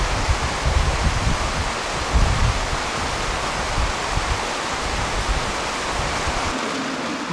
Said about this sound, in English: This is the picturesque River Erne running through Ivybridge.